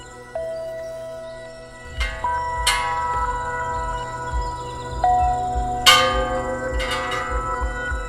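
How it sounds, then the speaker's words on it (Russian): Bell strikes ring out one after another, each leaving a long sustained tone, over a low rhythmic rumble. "Колокол."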